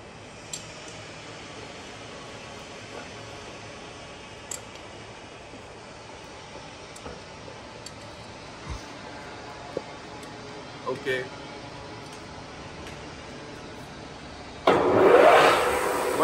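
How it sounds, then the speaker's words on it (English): The spindle of a WMW-Heckert dual spindle universal milling machine (1800 mm x 500 mm) runs at its maximum 1800 RPM with a low, steady hum and scattered faint clicks, ending in a louder broadband burst. "Working of spindle at its maximum speed, that is 1800 RPM."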